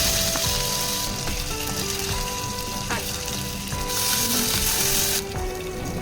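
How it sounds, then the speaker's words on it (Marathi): Cumin, mustard seeds, curry leaves, garlic and green chillies crackle and sizzle in hot oil, a loud continuous frying hiss with scattered pops and occasional clinks of stirring. "मी जिरं मोहरी कढीपत्ता लसूण हिरवी मिरची ह्यांची छान फोडणी दिलेली आहे"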